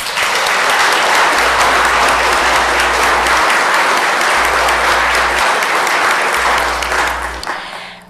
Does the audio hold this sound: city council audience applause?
yes